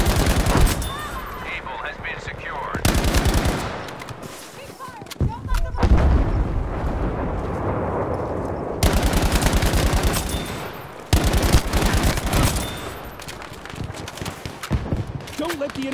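Battlefield 5 gunfire in a Solomon Island assault, with bursts of automatic weapons fire and sporadic booms over a constant battle din, while in-game voices call out orders.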